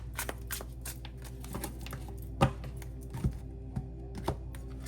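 Soft papery clicks and riffles of tarot cards being shuffled, a few sharper snaps standing out, close by and fairly quiet, with no talking.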